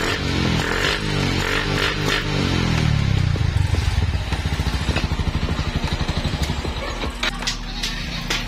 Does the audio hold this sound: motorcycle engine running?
yes